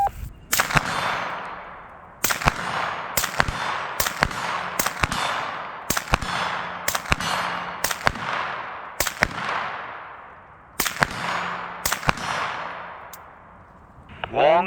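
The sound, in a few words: 9mm supersonic gunshots through Gemtech Lunar 9 suppressor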